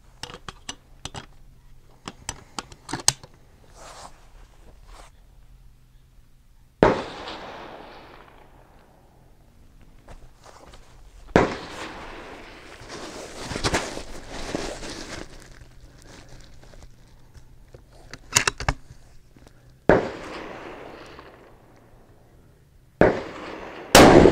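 A 16-inch .308 Win rifle firing Sierra 169gr MatchKing rounds outdoors, with a few sharp, loud cracks spaced several seconds apart. Each shot ends in a fading echo, and faint clicks and handling noises fill the quiet between them.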